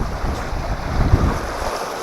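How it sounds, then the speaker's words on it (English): Strong wind gusts across a lakeshore fishing spot near a backwoods campsite, roaring and buffeting the microphone in uneven surges over a low rumble of choppy water. "Pretty windy now."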